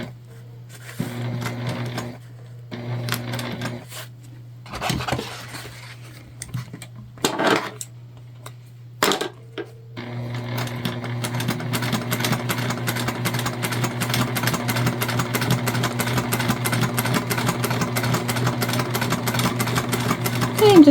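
A home sewing machine stitches a Zora shoulder bag with a zipper pull, starting in short stop-start bursts separated by quiet gaps, then settling into a long, steady, rapid run of stitching with a constant whirring motor hum.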